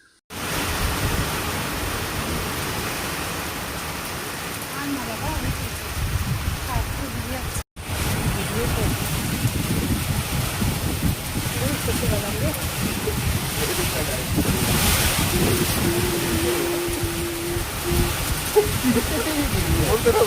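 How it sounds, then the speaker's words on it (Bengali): Heavy rain and wind in a storm beat down steadily on and around a shop shed, a dense close roar that keeps building, with a brief break partway through and faint voices beneath. "ব্যাস ঝড়ের মুখে পড়েছি আর একটা দোকানের শেডের নিচে দাঁড়িয়ে আছি"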